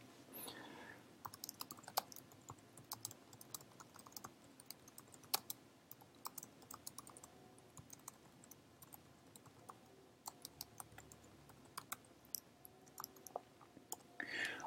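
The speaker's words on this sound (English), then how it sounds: "I can go ahead and type here" Steady, fast typing on a computer keyboard, a continuous run of light close key clicks over a soft room hiss, with no talking.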